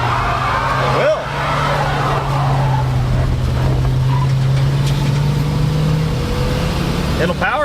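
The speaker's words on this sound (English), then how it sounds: "Will it do a burnout at all?" A 1973 Ford Ranchero roars through a burnout nearby, its engine holding a loud, steady drone with a whining tone. Voices can be heard over the engine.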